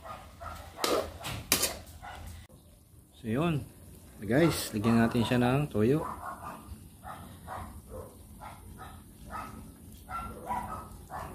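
A dog barks outside during home cooking of chop suey: a short burst of barks and yips rises midway, partly under a person talking nearby, with kitchen sounds around it.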